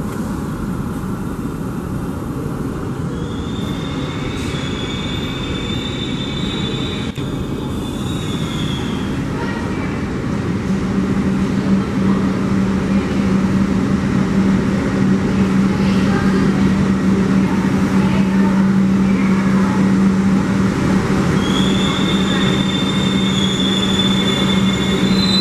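New York subway train rolling into South Ferry terminal, its rumble swelling as high-pitched wheel squeals ring out repeatedly, growing louder and closer.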